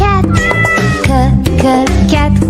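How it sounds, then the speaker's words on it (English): Cat meowing loudly and repeatedly over upbeat music in a children's alphabet phonics song, several drawn-out meows close and clear throughout. "C is for cat"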